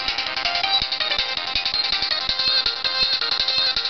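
Video game music plays from the small built-in speaker of a Game Boy Advance SP, a bright, tinny chiptune melody with a steady beat, continuous and fairly loud with no talk.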